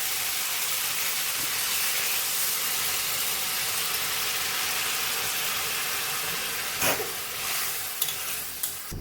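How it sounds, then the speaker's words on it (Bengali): Water poured into a hot pan of watermelon-rind curry with potatoes gives a steady broad steaming hiss and sizzle, with a few brief clatters near the end and no talking. "এবারে আমি জল দিয়ে দেব।"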